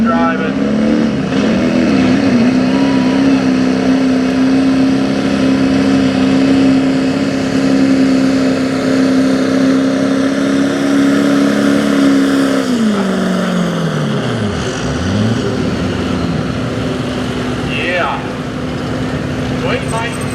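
Pulling truck engine roaring loud and sustained at a truck and tractor pull, a steady high drone that dips and swoops near the end amid crowd noise and a voice talking over it.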